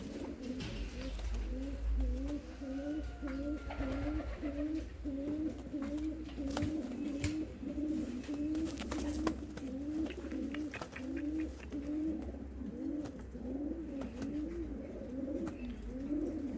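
Fancy costume pigeons with feathered feet coo steadily in a repeating, rolling rhythm, several birds close by, with a few faint chirps over a low background hum.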